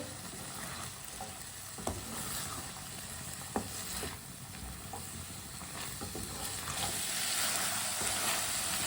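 Long-cut carrot slices cook in a pan for spaghetti, giving a quiet, steady sizzle with a few sharp stirring clicks and scrapes. No one speaks.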